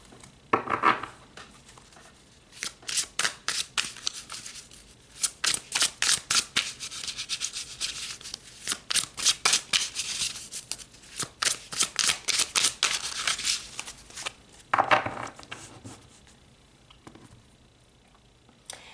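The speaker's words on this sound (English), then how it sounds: "So let's pull some more cards." Tarot cards are shuffled and pulled in repeated quick, crisp riffling bursts with short pauses between, close and fairly soft, with no talking.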